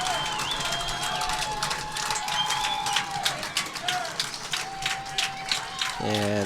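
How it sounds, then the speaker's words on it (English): Packed football stadium crowd before kickoff, a steady roar of cheering and clapping with a commentator talking over it and a whistle-like tone near the end. "And the crowd is on their feet here. We've got a packed house."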